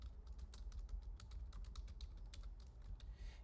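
Soft keyboard typing as a school name is entered into a design program, light rapid clicks over a steady low hum, faint and close with no talk.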